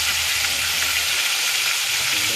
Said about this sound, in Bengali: একটু শব্দ আসতেছে মাছ ভাজির।